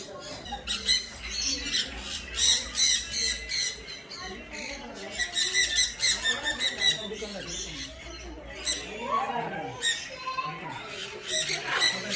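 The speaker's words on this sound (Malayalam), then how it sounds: "തുമ്പി ചേച്ചിയുടെ കയ്യിൽ കിളികൾ വന്ന് കൊത്തുക." Small birds pecking food from a hand give repeated sharp squawks and chirps in quick, irregular bursts, close and moderately loud over a soft background.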